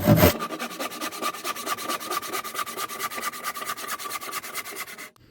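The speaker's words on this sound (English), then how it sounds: "Let's grab a saw and a chisel. Right, okay, so standard saw." A standard hand saw cuts through a wooden bass guitar body blank with rapid, even back-and-forth rasping strokes, loud and close, stopping abruptly near the end.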